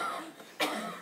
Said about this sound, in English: Pretend to smoke and then go into a violent coughing episode?